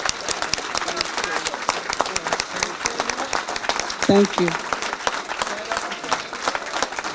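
Audience applause for the Alameda County DA at a progressive gathering; steady crowd clapping fills the whole stretch, with someone briefly speaking over it near the end.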